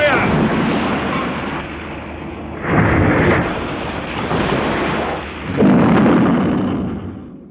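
A World War II U-boat deck gun fires at sea in the Atlantic, two heavy booms rolling out over a constant rumble, with shouted voices among the blasts.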